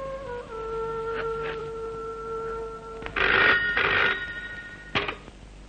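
A telephone bell rings in an office in an old Telugu film scene, loud bursts of ringing cutting in over a quiet tonal music bed, with a shorter burst near the end.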